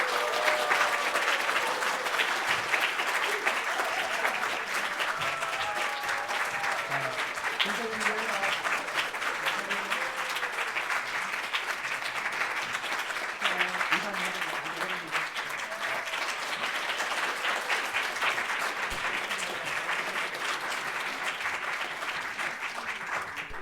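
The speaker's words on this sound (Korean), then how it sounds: "인사할 때 우리 크게 박수하여서 환영하겠습니다" Church congregation at an Easter Sunday service applauding loudly and steadily to welcome two people standing at the front, a dense wash of clapping that holds for the whole stretch with voices mixed in.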